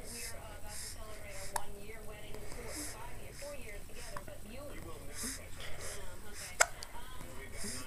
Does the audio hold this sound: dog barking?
no